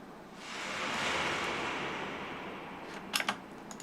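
A whooshing noise transition effect for a Minecraft video swells up in volume over about a second, then slowly fades, ending with a few brief faint clicks.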